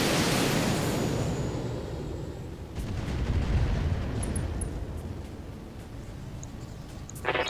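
LRM missile volley launched and striking a target in the mech combat game Battletech, a loud sustained rumbling roar of rocket fire and blasts that swells midway and ends with a sharp crack.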